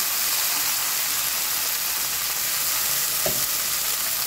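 Blanched kangkong vegetables cooking in a pan give a loud, steady sizzling hiss that runs throughout, with one brief clink near the end.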